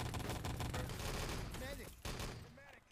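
MG42 machine gun fire in the video game Wolfenstein: Enemy Territory, a rapid burst of shots with other gunfire layered underneath, fading near the end while a voice talks over it.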